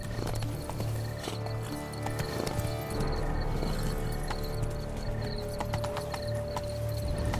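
A horse from The Witcher 3: Blood and Wine clip-clops at a steady rhythm across the Beauclair gardens, its hoofbeats close and continuous under faint ambient game sound.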